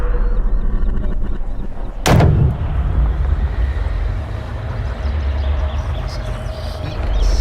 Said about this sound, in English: This has exploded off the club face.